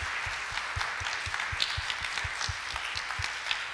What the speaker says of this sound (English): Can we give all of our students one final round of applause?